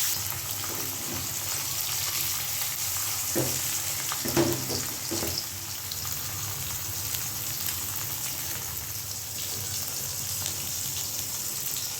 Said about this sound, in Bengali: মাছের ঝোল রান্না করার জন্য এদিকে আমি আগে মাছগুলো ভেজে নিচ্ছি